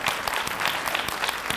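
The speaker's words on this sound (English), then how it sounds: "We can clap for Miss Baptiste" An audience at a teacher-of-the-year reception claps for Miss Baptiste. The dense, even applause is punctuated by a few sharper claps, with little talk beneath it.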